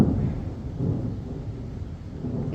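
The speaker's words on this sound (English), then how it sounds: "there sure is a lot of thunder" Low rolling thunder rumbles steadily and fairly loud through a rainstorm over a park campsite, a continuous deep roar with no voices.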